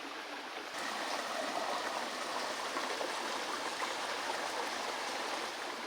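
Outdoors, a shallow stream flows around bare feet, a steady close rushing and trickling of water with no voices.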